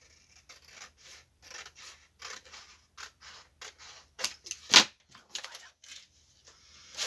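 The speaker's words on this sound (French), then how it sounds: "mon papier il est abîmé, donc je vais le couper" Scissors snip through damaged paper while a scrapbook album is being made, with a steady series of close, crisp cuts and one louder snip near the end, and no talking.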